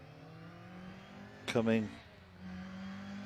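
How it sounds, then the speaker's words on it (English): A rally car revs hard through a stage at the Harlech Stages event, a brief loud rising burst of engine howl near the end of its pass, with a commentator talking over it. "I've been hearing that car on the limiter quite a bit today."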